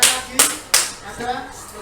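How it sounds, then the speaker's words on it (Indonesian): Children in a classroom giving a short round of clapping, three sharp, close claps in a quick rhythm followed by quieter scattered sounds in the room. "Beri tepuk tangan anak-anak."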